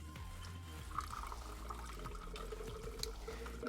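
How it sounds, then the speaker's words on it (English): Water runs steadily from a tap into a bottle, a continuous close gurgling fill with faint clinks and a rising pitch as the vessel fills. "I gotta fill my cup back up with water."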